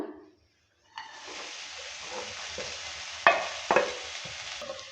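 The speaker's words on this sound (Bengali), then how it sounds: "নারকেলটা দেওয়ার পর ভালো করে নেড়ে চেড়ে নিচ্ছে" Grated coconut stirred in a hot kadai, a steady close frying sizzle with scraping spoon strokes and a couple of sharp clinks against the pan, starting after a brief silence.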